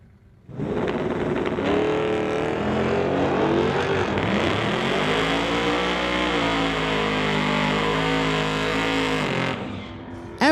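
A green 2019 Dodge with a 392 Hemi roars off the line in a drag race, its engine climbing loudly and holding a strong, sustained rev for several seconds before cutting off abruptly.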